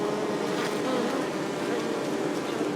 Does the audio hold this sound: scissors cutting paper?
no